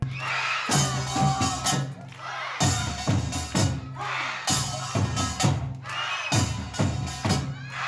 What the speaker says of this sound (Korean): 난타에 맞춰 아이들이 박수치고 소리치며